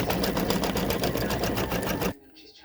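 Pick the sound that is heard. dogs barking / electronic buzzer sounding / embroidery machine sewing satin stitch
embroidery machine sewing satin stitch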